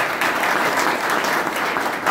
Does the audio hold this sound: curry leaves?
no